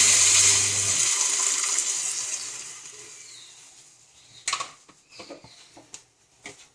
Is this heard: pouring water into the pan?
yes